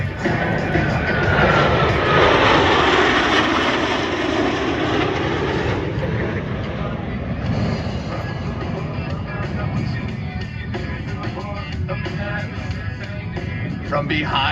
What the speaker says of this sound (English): Blue Angels 5 and 6 are approaching the flight line